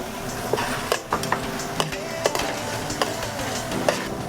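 Beef with onions, peppers, pepper flakes and fresh garlic sizzles steadily in a pan while a utensil clicks and scrapes against the metal at irregular intervals, close and fairly loud.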